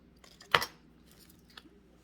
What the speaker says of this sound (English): Just taking the 2 or 3 of the outer leaves off, and I'm just cutting the stem part off.